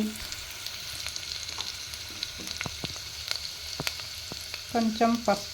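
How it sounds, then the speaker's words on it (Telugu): Vegetables with turmeric fry in a pan, a soft steady sizzle close by, broken by scattered stirring clicks and a brief louder scrape toward the end, with no talking. "కొంచెం ఇది లైట్ గోల్డెన్ బ్రౌన్ కలర్ వచ్చే వరకు దీన్ని ఫ్రై చేసుకోవాలి."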